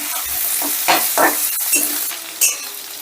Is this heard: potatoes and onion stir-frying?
yes